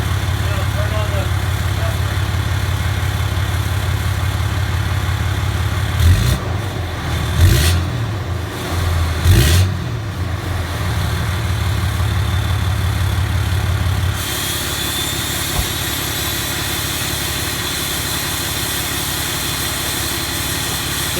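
A diesel truck engine with EGR and DPF deleted idles with a steady, low rumble, briefly louder and rougher in the middle before settling back to a quieter, even idle.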